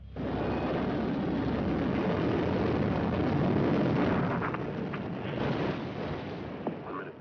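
Space Shuttle Challenger's three main engines roaring at throttle up during its 1986 launch, a dense, sustained broadband rumble with a crackling texture, heard from a distance and holding steady before easing slightly.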